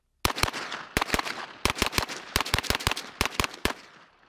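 Rapid volleys of sharp, loud gunshots from a firearm fitted with a vertical foregrip, about sixteen cracks fired in quick irregular clusters with brief pauses between, close and alone with no talking.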